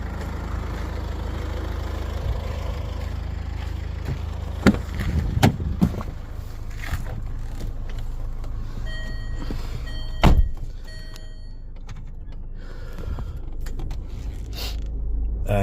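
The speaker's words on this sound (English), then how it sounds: "And now we'll just drive to the gate." A car drives along a private road toward a gate on Waiheke Island, with a steady low engine rumble throughout and a few sharp creaks and knocks as it rolls over uneven ground.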